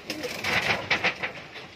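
Pigeons coo close by in a few soft, rounded pulsing calls in quick succession, with no talk.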